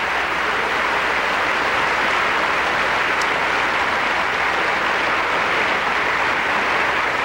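Applause from a crowd of more than 6,000 friends and supporters fills a 1994 gubernatorial inauguration ceremony for Angus King, a dense, steady roar of clapping that holds evenly throughout with no voices.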